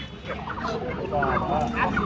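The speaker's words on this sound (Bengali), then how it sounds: "এখানে মোরগ মুরগির সংখ্যা বেশি হাঁসের সংখ্যা কম" Chickens and ducks cluck and squawk in a crowded rural poultry market at Pachila haat in Sirajganj district, with several birds calling close by over a steady murmur of people talking.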